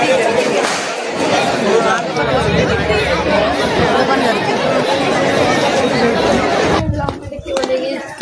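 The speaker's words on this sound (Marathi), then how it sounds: "एवढी गर्दी आहे मरणाची आई" Dense crowd chatter outdoors on a Diwali morning in Dombivli: a loud, continuous babble of many nearby voices, with one voice briefly heard close by near the end.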